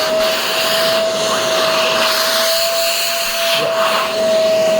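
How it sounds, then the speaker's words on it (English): A Shark Duo Powerfins vacuum cleaner runs loud and close with a steady whooshing roar and a high constant whine, unbroken for several seconds. "So first, we'll start by seeing if the vacuum has suction."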